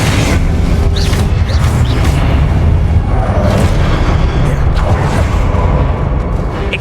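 Incendio fire spell cast in Hogwarts Legacy during combat, a loud sustained roaring rumble with booming low-end bursts that stays dense and steady throughout, with no voices.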